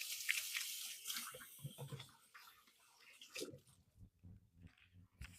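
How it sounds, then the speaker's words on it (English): Hands are washed under running water at a kitchen tap, a soft splashing rush for the first couple of seconds, then quieter scattered knocks and drips. "I'm going to wash my hands real quick."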